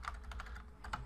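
Quick keystrokes tap on a computer keyboard, about eight soft clicks in a brief burst, close and quiet with no talking.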